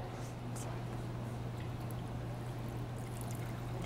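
Hot water poured during a science demonstration, a steady close pouring and trickling wash running throughout with a constant low hum underneath.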